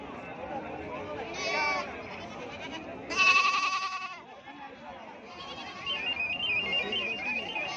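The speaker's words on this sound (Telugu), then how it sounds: "వచ్చేసి మనకి మేకపోత పిల్లలు ఉన్నాయి కదా సార్ ఇవి వచ్చేసి మనకి త్రీ మంత్స్ పిల్లలు" Young male goats, about three months old, bleat at the weekly Gudur livestock market, with a couple of loud cries rising over constant nearby talk and crowd chatter.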